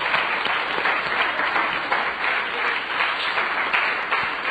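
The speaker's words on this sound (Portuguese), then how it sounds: "Quem está entendendo, aplaude." Church congregation applauding during a Portuguese sermon about the Holy Spirit, a dense, steady wash of many hands clapping at once, loud and continuous with no speech over it.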